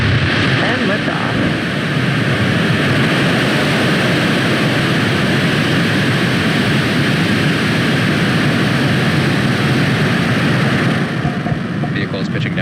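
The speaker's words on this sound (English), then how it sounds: "There we see Falcon 9 has successfully lifted off from Cape Canaveral Space Force Station" Falcon 9 rocket lifting off from Cape Canaveral Space Force Station: a steady, loud, broadband roar with deep rumble that holds constant without pause throughout, nearby.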